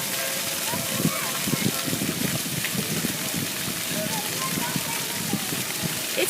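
Water falls steadily like a shower at a waterfall, a dense close hiss and patter throughout, with people talking over it.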